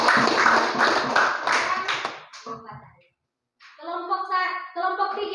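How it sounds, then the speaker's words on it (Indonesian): A class of schoolchildren claps for a group after its presentation, a lively spell of clapping under a voice that fades out, followed by a short silence and then someone speaking. "tepuk tangan untuk kelompok 2 juga"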